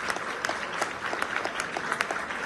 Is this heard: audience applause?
yes